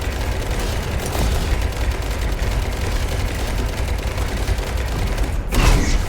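Gunfire in the video game ITER 8, with a dense, steady stream of loud shots and rumbling engine-like noise throughout, and a sharper burst near the end.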